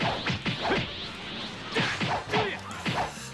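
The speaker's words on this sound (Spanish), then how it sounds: "Voy a romper los cristales como sea" Dragon Ball Xenoverse 2 combat as crystals are smashed: a string of sharp whooshing strikes and cracking hits in quick bursts, loud and close over steady game background noise, with no talk.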